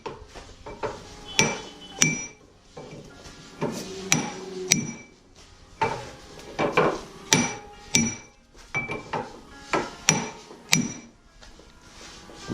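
Repeated hard metallic hammer blows knocking a lower ball joint out on a 2004 Honda Accord, sharp ringing clanks in irregular bursts, some rapid double strikes, close and loud with no talk.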